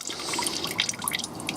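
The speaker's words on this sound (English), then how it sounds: "It's literally just dripping out now" Last drops of coolant fall from the drain of a BMW 7 Series, a close run of quick irregular drips and small splashes with no talking.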